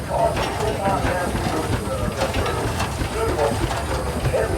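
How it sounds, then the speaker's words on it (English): A 1917 20-horsepower Harrison Jumbo steam engine in a tractor parade, chuffing steadily with a continuous hiss and rhythmic clatter at moderate loudness, with a voice faintly present beneath. "1917, 20 horse Harrison Jumbo engine"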